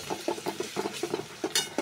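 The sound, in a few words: ginger paste added to frying onions in a pan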